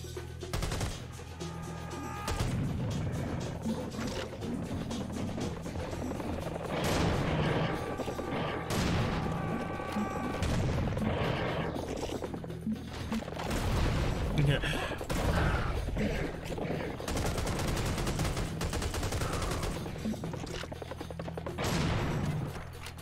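Rapid bursts of gunfire from the Serious Sam HD: The First Encounter shooter, with sustained automatic fire and booming shots over about twenty seconds, dense and loud, with some talk mixed in.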